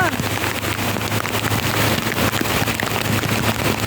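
Heavy rain and floodwater during Typhoon Carina pour down in a steady, loud wash of noise, with gusty wind buffeting the microphone throughout.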